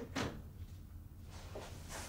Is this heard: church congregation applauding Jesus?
no